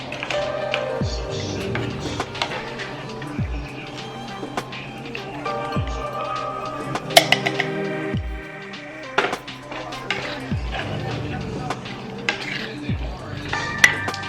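Canned ingredients for a taco lasagna get stirred in a pot, with repeated scrapes and clanks of a utensil against metal, sharp taps scattered throughout, and faint kitchen talk in the background.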